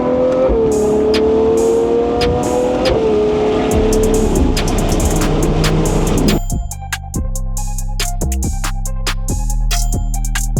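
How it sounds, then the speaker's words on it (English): A small car engine revs and drones loudly nearby, pitch stepping up through gears before dropping to a lower, choppier idle-like rumble with clicks and rattles in the second half. "We've got a real mini car here today."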